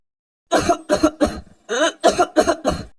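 A cartoon boy crow coughs in two hoarse bursts, first four quick coughs and then four more after a short pause. The coughing is loud, close and alone, with no other sound.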